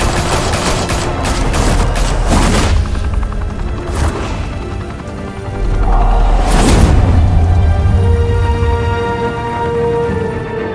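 Sustained automatic gunfire from a firefight in Batman: The Telltale Series, loud and dense bursts rattling continuously with a couple of heavier booming impacts, no talking over it.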